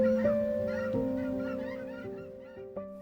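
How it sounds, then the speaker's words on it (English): Geese flying south over autumn countryside give a series of honking calls, several overlapping tonal honks spread over a few seconds, sounding fairly distant with no talk. "broken only by the distant calls of geese heading south to warmer skies"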